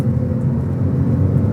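A Porsche 911 Turbo in Sport Plus mode gives a loud, steady, low engine drone heard from inside the car, with no voices over it.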